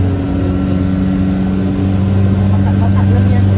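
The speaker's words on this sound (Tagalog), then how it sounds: "Umakyat ang minibus." A minibus engine hums steadily and loudly as it climbs uphill, a constant low drone from inside the vehicle with a faint murmur of voices beneath it.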